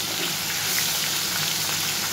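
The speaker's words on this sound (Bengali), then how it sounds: "মাছগুলো ভেজে নিই" Pieces of katla fish frying in hot oil, a steady, dense sizzle that holds at an even level throughout, close and with no voices over it.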